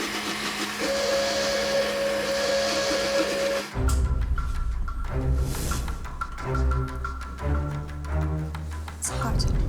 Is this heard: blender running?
yes